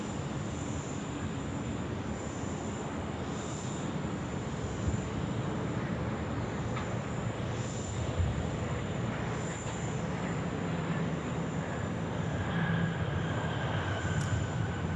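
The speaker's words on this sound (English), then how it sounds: "Virgin Australia service there from Melbourne, just dropping it in on runway 16 right" A Virgin Australia airliner from Melbourne lands on runway 16 right at Sydney. A steady broadband jet roar runs for the whole stretch at even loudness, with no talk over it.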